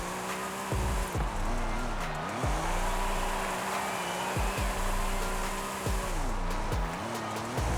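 An Infiniti Q60 drift build in Forza Horizon 5 runs figure eights, its engine whining at high revs with repeated sweeping dips and climbs as it transitions, plus tire squeal, loud and continuous with no speech.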